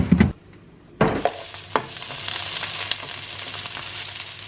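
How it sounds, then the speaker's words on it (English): Food sizzles steadily in hot olive oil after a couple of clattering knocks, a continuous close crackle with no talking. "It's just sizzling away in some olive oil."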